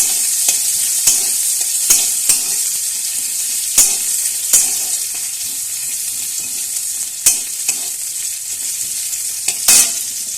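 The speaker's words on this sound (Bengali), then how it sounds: "পেঁয়াজ একটু ভাজা হোক" Steady sizzling of food frying in a pan, with sharp scraping clicks of a spatula stirring every second or so; no voices.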